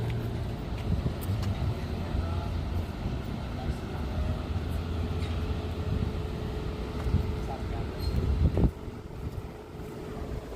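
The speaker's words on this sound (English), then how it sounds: "And the cars are still running through." Cars driving past on a road, a continuous low rumble of traffic with wind buffeting the microphone, under talk, with a louder pass building near the end before it cuts off.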